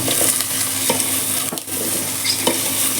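Spices for sambar tempering sizzle and crackle in hot oil while being stirred, a steady close frying hiss with a few sharper pops and scrapes, and no voices.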